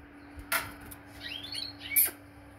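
A few short, high chirps from a small female canary over a faint background hum, with brief rustling in between.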